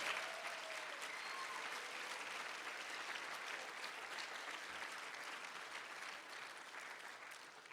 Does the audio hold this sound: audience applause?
yes